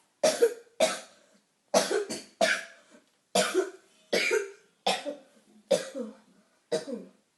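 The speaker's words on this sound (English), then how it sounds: "How long have you had that cough?" A series of harsh, hacking coughs, about ten in all, coming in short bursts with brief pauses between them, close and fairly loud.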